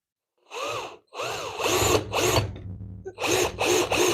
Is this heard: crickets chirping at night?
no